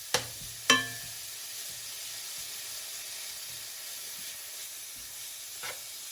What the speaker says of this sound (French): faire revenir légèrement